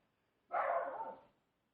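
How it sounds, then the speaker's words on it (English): One short, close dog bark rings out in a quiet indoor room, followed by silence. "sorry about my dogs barking."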